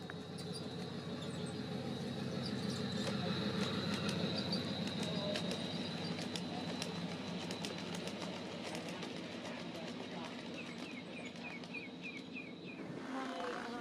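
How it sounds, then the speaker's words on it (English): Southern Pacific freight trains on a garden model railroad run outdoors with a steady rolling clatter of wheels on track, while crickets chirp and birds call in the background. "Here we get two Southern Pacific freight trains and one mining train in one shot"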